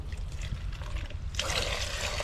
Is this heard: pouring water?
yes